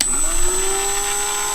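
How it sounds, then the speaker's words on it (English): A Dremel rotary tool at its slowest speed spins a 1.2 mm drill bit into a cloak's pin and hoop clasp, giving a steady, loud motor whine with a slowly rising pitch after spin-up and a thin high tone throughout. "I've got it on the slowest speed setting, and I'm going to drill onto this side of the mark"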